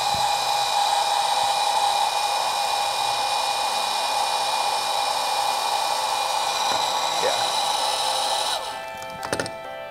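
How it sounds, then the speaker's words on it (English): A heat gun blows continuously on heat shrink tubing over an EL split tape connection, a steady close whooshing hiss with a whining tone that cuts off near the end followed by a couple of small clicks. "And take our heat gun."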